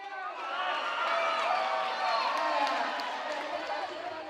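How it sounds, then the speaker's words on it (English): Fans in a gym with a balcony cheer at a robotics competition as robots stack cups on the field, a continuous crowd roar with scattered shouts, steady and moderately loud throughout. "The fans cheer as the timer counts down"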